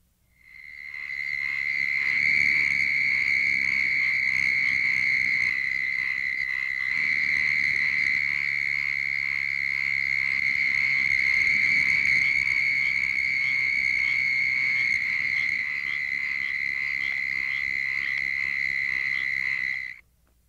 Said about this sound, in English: a chorus of 50 southern toads with a few pinewoods tree frogs and some oak toads calling in a small pond